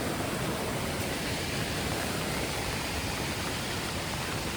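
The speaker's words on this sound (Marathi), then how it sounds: "पाणी पूर्णपणे असं खाली वाहत जात आहे आणि शेवटी हे जे पाणी येते ना तर ते खाडीलाच जाऊन विलीन होतं" Monsoon rainwater runs down a village road toward a creek, a steady, dense rushing wash that fills the whole clip without pause, close and loud, with no voices over it.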